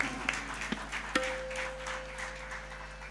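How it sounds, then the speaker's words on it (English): An audience at a Parampara cultural stage event applauds, a soft, steady patter of clapping with a few sharper claps near the start, distant and moderately quiet. "A huge round of applause to Rashmitai for being a part of Parampara 2."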